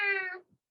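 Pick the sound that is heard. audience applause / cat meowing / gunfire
cat meowing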